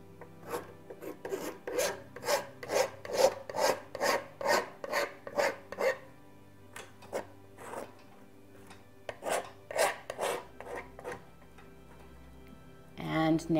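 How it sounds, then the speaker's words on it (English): A palette knife scrapes acrylic paint across canvas for a seascape painting, giving a steady run of rasping strokes, about a dozen in quick rhythm, then a short pause and a few more, close and moderately loud. "Scrape it in there."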